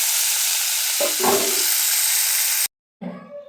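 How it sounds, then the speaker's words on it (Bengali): Crabs frying in a hot pan, a loud steady sizzle with a couple of stirring scrapes, then a sudden cut to silence before a shorter burst of frying resumes. "তো চলুন ভেজে নিই"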